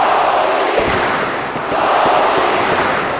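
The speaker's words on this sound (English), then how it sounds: "Crowd here, fourth field, making their voice heard." Wrestling crowd at an indoor show making a steady, loud wash of shouting and cheering, dense and continuous throughout with brief dips, no distinct voices standing out.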